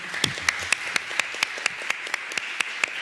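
A small constitutional-dialogue audience claps for the panel speakers, sparse and evenly spaced claps standing out sharply over a soft background of scattered hands, fairly quiet overall.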